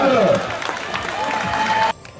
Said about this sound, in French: Applaudissez le spectacle.